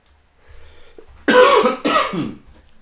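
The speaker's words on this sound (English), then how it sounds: "I will be coughing." A couple of harsh, close coughs in quick succession, preceded by a soft throat sound, in an otherwise quiet setting.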